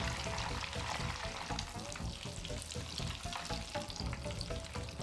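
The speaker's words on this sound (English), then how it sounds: "Deep fry them for a total of 6 minutes until golden brown." Oil sizzles and crackles steadily as breaded ground-meat patties (menchi-katsu) deep fry, a dense, bubbling hiss close by with no voices.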